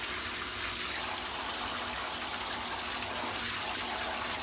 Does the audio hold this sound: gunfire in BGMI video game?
no